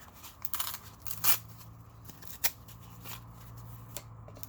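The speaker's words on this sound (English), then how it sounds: "So I think I'm just going to rip this." A sprayed paper napkin is torn by hand for a paper craft, making soft, close crackling rips in a few short bursts with quiet gaps between them, and no one speaks.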